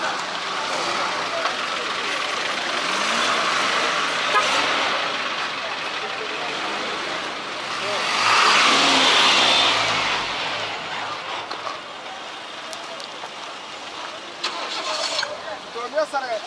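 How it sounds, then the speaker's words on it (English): Busy, chaotic street traffic in Somaliland: a continuous wash of car and truck engines idling, starting and revving nearby, swelling louder midway as vehicles pass close, with a faint voice somewhere in the mix. "The streets are chaotic right now. I'm trying to dodge and weave my way through traffic"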